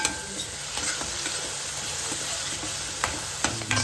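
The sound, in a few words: chillies frying in fish curry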